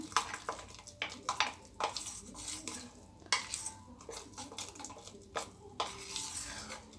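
A spoon stirs a bakery-style laddu mixture in a bowl to dissolve it without lumps, making soft swishing strokes broken by a series of light metallic clinks and taps against the rim, fairly quiet and close.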